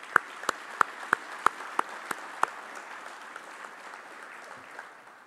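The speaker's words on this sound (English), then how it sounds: "Please join me in a round of applause for Dr. Rogers." An audience claps at a university athletics press conference introducing a new hockey coach; a handful of sharp separate claps ring out over a soft, steady wash of scattered clapping that fades toward the end.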